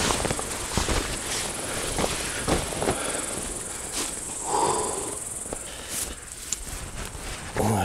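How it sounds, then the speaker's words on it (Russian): A swarm of midges hovers over a marshy lakeshore during a duck hunt, making a steady, thin high whine that runs continuously, with scattered rustles and footstep-like crunches close by. "Вон, сколько этой мошки тут летает, кошмар."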